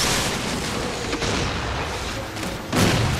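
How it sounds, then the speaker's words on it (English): A dense, continuous roar of combat in a Halo 4 multiplayer match, with weapon fire and booming blasts blending into a thick wall of noise. A louder hit lands near the end, and voices are partly buried underneath. "everyone's shooting me"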